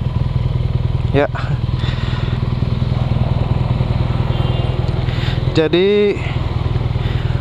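Engine of a 2017 BMW R nineT motorcycle running steadily close by, with a brief rev rising and falling near the end; someone talks over it.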